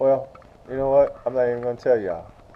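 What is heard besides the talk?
No distinct noise like a dog, phone or traffic.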